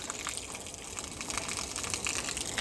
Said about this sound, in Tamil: ஒரு சின்ன பைப்பில் மேலேருந்து தண்ணி தேங்கி எல்லாம் வந்துட்டுருக்கு, மழை தண்ணி.